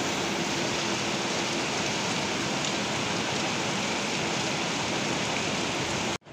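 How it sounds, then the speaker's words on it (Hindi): Heavy morning rain pours down in a dense, loud, unbroken hiss for several seconds before cutting off abruptly at the end. "जोरदार बारिश आ रही है"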